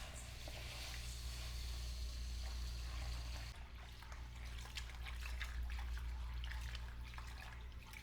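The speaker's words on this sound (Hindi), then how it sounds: "इसको अच्छा से पहले हम धो देंगे 10 पानी 8 पानी से" Wheat grains are washed in water in a pot, giving a continuous watery sloshing and trickling with splashy bursts, fairly close and alone without talk.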